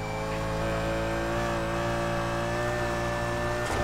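Lamborghini Huracan in NFS Heat with a loud, sustained engine drone at a steady high pitch throughout, alone and close, with a brief shift at the very end.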